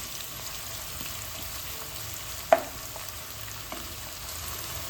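Chopped onions fry in a pan with a soft, even sizzle close by, broken by one sharp clink of a spoon or spatula midway.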